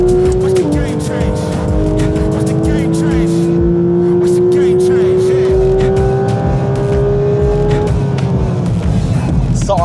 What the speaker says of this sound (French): Le pneu il se nettoie là, t'entends?